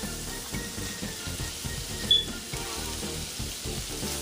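Chopped celery, carrots and onion sweating in a pan for stuffing, a steady low sizzle with soft crackle running evenly throughout, close and moderately quiet, with no voices.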